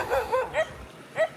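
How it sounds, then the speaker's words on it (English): Angry dogs bark at a stranger near a village entrance on Koh Rong, Cambodia, giving about four sharp yapping barks at moderate distance, irregularly spaced, with a short gap before the last one. "there's some angry dogs not happy about me being here"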